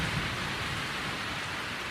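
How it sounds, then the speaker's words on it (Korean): Heavy rain pours steadily with low rumbling thunder underneath, a dense continuous downpour close by with no voices. "이렇게 폭우가 쏟아지는 날은 대부분 전투가 없다."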